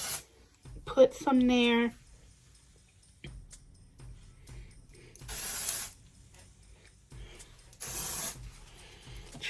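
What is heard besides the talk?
spraying dry shampoo on hair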